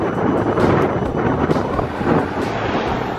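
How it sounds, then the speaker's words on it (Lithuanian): A strong headwind buffets a cyclist riding on a country road, a steady, loud, rushing roar right at the microphone with small gusty swells and no voices. "Ir vėjas tiesiai į kaktą."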